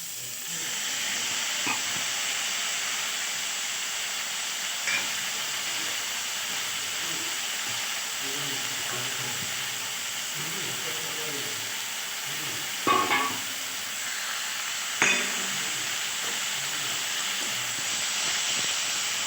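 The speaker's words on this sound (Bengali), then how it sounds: "ভেজে রাখা সবজিগুলো দিয়ে দিলাম এবার একটু একটু নেড়ে নেবো" Vegetables for shukto stirred in a hot frying pan, steady oil sizzle and hiss throughout with occasional scrapes and clacks of the spoon against the pan, close and continuous.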